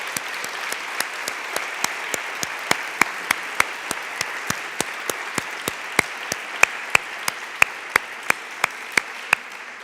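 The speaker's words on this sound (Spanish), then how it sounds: "Un aplauso para la doctora Hiroyasu" Steady audience applause at a Spanish-language academic congress, moderately loud and sustained for around ten seconds with sharp, evenly spaced claps standing out from the crowd's clapping.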